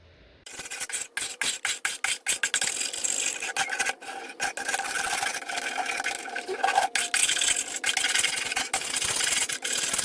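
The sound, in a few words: scraping old paint off wood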